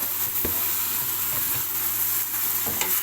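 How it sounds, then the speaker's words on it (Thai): Ginger stir-fried in caramelized sugar for ginger drink, a constant close sizzling hiss with a few sharp scraping strokes of the spatula against the pan, no talking. "เราจะผัดอย่างนี้ประมาณ 5 นาทีนะครับ"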